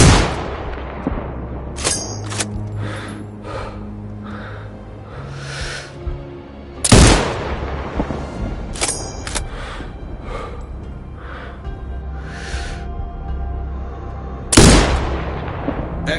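Sniper rifle shots in a video game, with three loud, sharp cracks spaced several seconds apart over a busy bed of game ambience and music.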